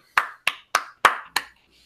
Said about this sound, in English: Everyone clap, clap, clap, clap.